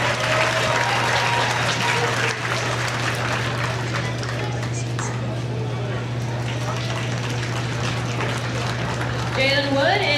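Crowd applause fills a county fair hog show arena, steady and dense throughout, with a constant low hum beneath and voices mixed in.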